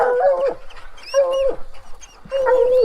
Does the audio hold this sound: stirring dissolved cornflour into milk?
no